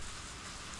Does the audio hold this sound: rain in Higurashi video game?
yes